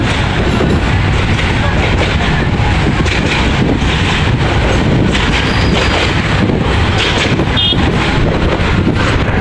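A crowded Bangladeshi local train bound for Dhaka rumbles along the rails, a loud, unbroken roar mixed with heavy wind buffeting. A voice is faintly heard under the noise.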